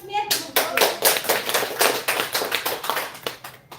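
An indoor audience claps for a presentation speaker in Yakutsk, with a dense, steady patter of many hands at moderate loudness that swells quickly and fades near the end.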